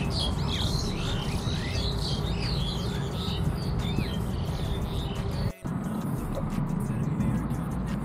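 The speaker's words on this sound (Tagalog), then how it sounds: "Ang dami ng ibon. Ang dami ng lalo na yung mga doves, mga lapate." Doves and other birds call outdoors near Dubai Creek, with many chirps and tweets overlapping above a steady bed of traffic noise that continues throughout.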